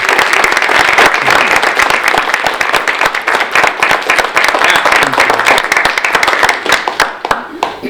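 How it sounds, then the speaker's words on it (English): Close, loud clapping from a farewell gathering's audience, many hands beating in a dense rapid patter that holds steady before thinning out near the end, with some voices mixed in. "So how about a big round of applause?"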